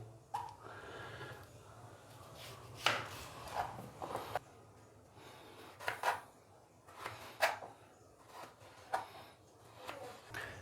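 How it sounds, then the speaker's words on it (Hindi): A knife cuts raw potatoes into chips on a board for oil-free French fries: quiet, close, irregular thuds and scrapes with short pauses between strokes. "इस तरीके से हम आलूओं की नॉर्मल साइज़ में कटिंग कर लेंगे"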